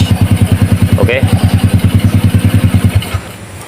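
A modified Honda C70 97cc motorcycle with a four-speed gearbox idles steadily nearby with a rhythmic low putter, a brief clunk as it drops into neutral, then the engine note settles lower near the end.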